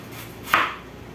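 A single knife stroke chops through a white onion on a cutting board, one crisp close chop standing out against quiet background.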